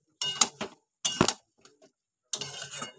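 A utensil stirs cashew and poppy seed paste in a pan over low heat for a cauliflower dalna, giving three short bursts of scraping clinks with pauses between.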